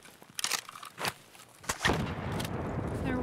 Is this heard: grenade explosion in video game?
yes